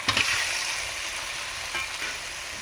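Chicken coated in salt and mustard oil sizzles as it goes into a well-fried spiced masala, a steady close crackle with a few sharper spits near the start and no talking.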